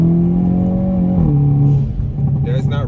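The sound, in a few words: Hyundai Kona N exhaust revving with SXTH Element downpipe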